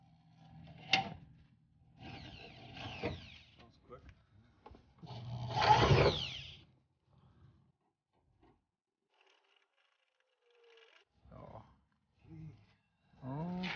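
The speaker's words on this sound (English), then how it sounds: "Okay, get the drilling." A power drill whirs in a few short bursts while installing an Evo-style spoiler on a Mitsubishi Lancer, loudest in a sustained run midway, with quiet gaps and people talking nearby.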